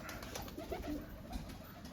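Pigeons coo softly nearby, low throaty calls that rise and fall over faint background noise.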